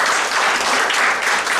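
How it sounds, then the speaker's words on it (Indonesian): A church congregation bursts into dense, loud applause, a steady wash of many hands clapping close by for the whole short stretch, with no voices over it. "Tepuk tangan yang dahsyat buat Tuhan itu."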